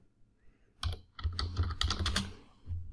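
Fingers typing on a computer keyboard, a brief burst of close, crisp key clicks in quick irregular rhythm with a short pause before a final few strokes.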